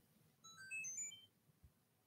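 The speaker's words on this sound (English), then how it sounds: "That's my text ringtone," A short electronic ringtone of bright rising and falling beeps, fairly faint over a low background murmur, lasting about a second.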